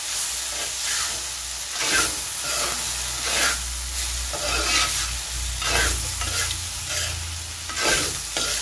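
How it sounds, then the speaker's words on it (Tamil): Raw plantain pieces are stirred with masala in a hot pan, the spoon scraping in repeated strokes over a steady loud sizzle close by, with no talking. "இப்போ வாழைக்காய் வந்து நல்லா அந்த மசாலாவோட நம்ம மிக்ஸ் பண்ணிடலாம்."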